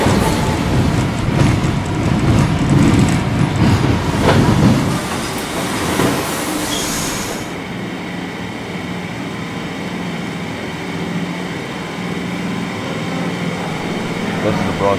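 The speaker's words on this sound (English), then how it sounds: "This is the Bronxbound 6 Express train." An R62A subway train on the Bronxbound 6 Express in the Trainz 12 simulator, a steady rumble of rolling wheels and car noise that eases from a louder roar into a quieter running hum.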